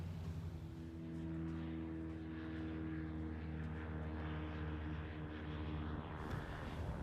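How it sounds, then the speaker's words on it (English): A propeller bush plane flying over the Knik River while practicing touch-and-go landings on a sandbar, giving a steady droning hum with a clear engine tone that stays faint and distant throughout, with no voices. "Bush pilots practicing touch and goes along the river, practicing their skills at landing"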